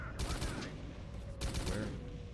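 Sniper gunfire in S.T.A.L.K.E.R.: Call of Pripyat comes as two loud, close bursts of shots with a ringing tail, separated by a brief lull.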